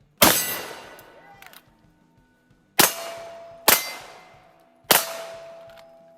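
A Glock pistol fitted with an RMR sight fires four sharp, close shots, with a longer gap after the first and quicker spacing later, and each crack rings out briefly with metallic pings between shots.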